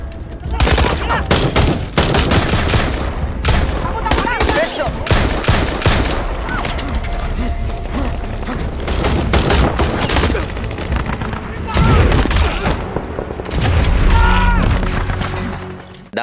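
Heavy gunfire crackles through a film firefight: dense bursts of automatic fire and single shots, with booms and impacts, loud and continuous for the whole stretch.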